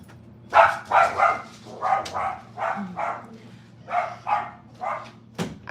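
A dog barks repeatedly indoors, steady bursts roughly every half second to second, moderately close, with some speech-like sounds mixed in.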